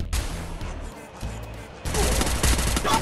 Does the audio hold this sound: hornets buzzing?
no